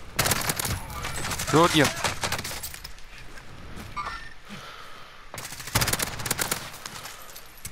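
Bursts of gunfire in a Call of Duty: Modern Warfare final circle, rapid cracking volleys at the start and end with quieter stretches between, while players talk over it.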